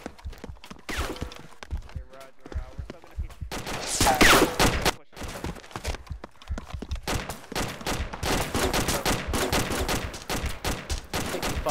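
Dense gunfire in a military shooter, with sharp single shots and rapid bursts ringing out close and distant over several seconds, and occasional radio-style voices talking between volleys.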